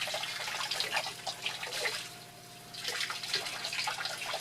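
Shower water from an EccoTemp EM-7.0 tankless water heater, run off grid, splashes unevenly in close, moderate bursts, dipping quieter midway before splattering again; no talking.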